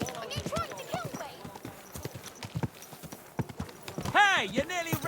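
Horse hooves clip-clopping at a steady pace while riding in Kingdom Come: Deliverance 2, with voices of game characters talking over the hoofbeats and a neighing horse near the end.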